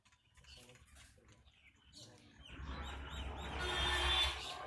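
Mynah birds calling in a tree, their chirps and chatter growing louder over a rustling outdoor background.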